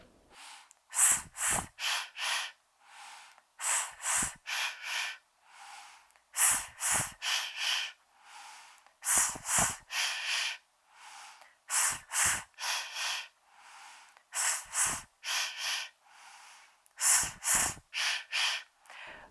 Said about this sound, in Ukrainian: Показую один вдих, чотири видихи. С і ши.